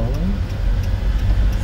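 A manual-transmission car pulls away during a Korean driving lesson, its engine a steady low rumble close by throughout, with a faint voice in the background.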